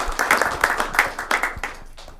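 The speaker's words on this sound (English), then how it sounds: "a round of applause for Turkey Drop 2025" A small crowd at a city council meeting claps for a Turkey Drop event, a short burst of close, uneven applause that fades within about two seconds.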